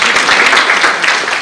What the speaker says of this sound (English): Can we please give them a round of applause because they're doing a wonderful job